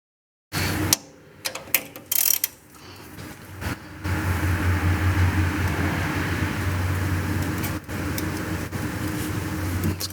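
A socket wrench works on a 2004 Mustang Mach 1, giving a few sharp metallic clicks and clanks at first, then a steady ratcheting drone under a continuous low mechanical hum.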